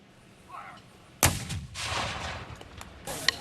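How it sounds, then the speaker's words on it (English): Two restored boat howitzer cannons fire at a National Park Service commemoration, giving a sharp, loud blast followed by a rolling boom and echo, then a further crack near the end. "two newly acquired and fully restored cannons sounding off"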